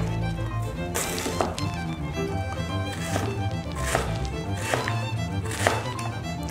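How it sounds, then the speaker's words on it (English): A knife slices kohlrabi into thin slices on a board, a steady series of crisp, close chops and thunks with short pauses between strokes. "Here we have kohlrabi. Cut it into"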